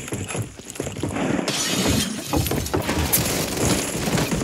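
Glass shatters in a gunfight video game, a burst of crunching, scattering shards that continues in bright clattering bursts over several seconds, loud and close.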